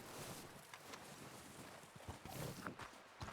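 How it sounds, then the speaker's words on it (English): Horse hooves walking on the ground in Red Dead Redemption 2, a faint, uneven clip-clop of steps under soft wind-like ambience. "Gonna study that horse."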